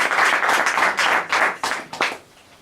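A short burst of clapping from a church congregation, loud and close, fading out within about two seconds.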